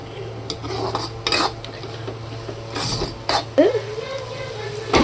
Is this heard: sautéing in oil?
yes